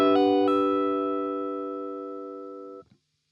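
Neo soul electric guitar flourish built from hammer-ons and pull-offs: a couple of quick note changes at the start, then a chord that rings and slowly fades before stopping abruptly, played alone and fairly quiet.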